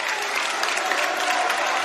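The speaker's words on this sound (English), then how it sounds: "Fans come to their feet. They applaud the senior." Basketball fans at a high school district final, Archbold against Liberty Center, applaud a senior player with sustained, dense clapping that fills the gym steadily and evenly from start to finish.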